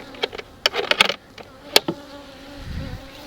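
Honeybees at a small six-frame hive buzz past in short close bursts and fly-bys, alone against quiet outdoor background.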